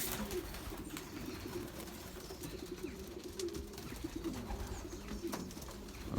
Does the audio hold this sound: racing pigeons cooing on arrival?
yes